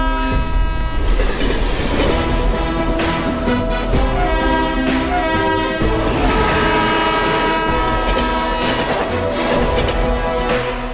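A train approaching on the tracks, loud and near, with a continuous heavy rumble and rhythmic wheel clatter under a sustained blaring horn that carries through the whole stretch.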